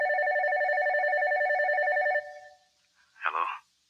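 A telephone rings with a loud, warbling electronic trill that runs steadily for about two seconds, then stops, followed by a brief unrelated sound after a short pause.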